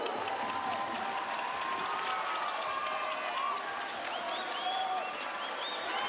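A basketball crowd at a Halcones de Xalapa versus Club Nacional quarter-final roars and applauds after a score, with a steady, dense wash of cheering and clapping, and sneaker squeaks and whistles faintly audible.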